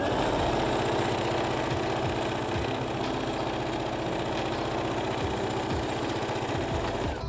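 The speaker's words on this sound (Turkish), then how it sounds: "Overlock'un görünmemesi için 2 kat yapıp dikiyorum yırtmacımı." A domestic sewing machine stitches the double-folded slit of a summer dress, running steadily at a constant whirring pace with a rhythmic mechanical chatter throughout, close and loud with no talking.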